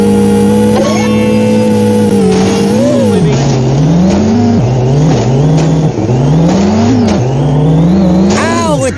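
Car engine from The Simpsons Hit and Run, a video game, revving hard at high speed, its pitch climbing and dropping in repeated surges with tire noise and whirring, loud and continuous throughout.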